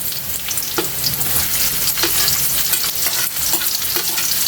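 Ginger frying in a pan until golden brown, with a steady loud sizzle and crackle throughout and periodic scraping clicks of a spatula stirring the pieces.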